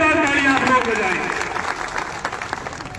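Crowd applause welcoming an MLA at a village gathering in Dhand, loud dense clapping at first that thins and fades over a few seconds, with a voice over it.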